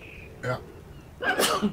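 A single sharp sneeze bursts out loudly after a short spoken word, close and abrupt, lasting only a moment.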